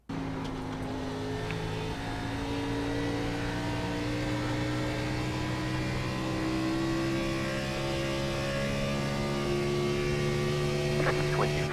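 An Xfinity stock car engine drones loud and steady on a hot lap at Rockingham in the iRacing sim, its pitch rising and falling through gear changes and corners, with no talk.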